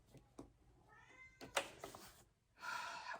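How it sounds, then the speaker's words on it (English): A house cat meowing indoors at home, several distinct plaintive meows in a row, close and fairly loud, the last one longer and more insistent. "Poor cat."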